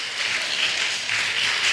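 Church congregation applauding performers at a Christmas in the Bahamas program, a brief burst of even, fairly loud clapping that holds steady throughout.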